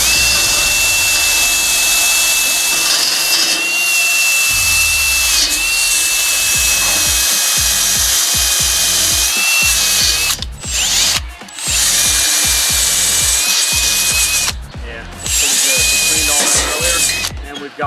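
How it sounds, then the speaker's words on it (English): A wire brush spun by a drill scrubs metal on a GMC Topkick gas tank repair, a continuous loud whirring grind with a high whine, briefly easing off a few times before resuming. "So where's that wire brush with the drill? Let's just hit that real quick."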